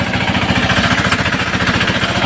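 A Sanedo mini tractor working a pigeon pea field chugs loudly and close with a fast, steady rhythmic engine thump and rattle throughout, alone without voices.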